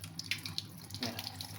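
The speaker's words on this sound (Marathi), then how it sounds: "असं पाणी येळून टाकू." Water pours and splashes as cooking water is drained from a pot of boiled wild agave-flower greens, a soft running trickle with small gurgles, close and fairly quiet.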